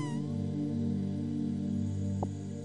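A pet cat in RuneScape gives a short meow, a brief tonal call near the start over a steady humming game background tone, with a small click later.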